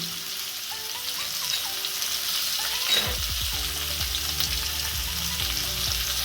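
Potatoes for a vegetarian aloo dum sizzle steadily in a pan with Kashmiri chili powder, salt and chopped tomato, a continuous close frying hiss with stirring scrapes and a faint tonal background from about halfway on.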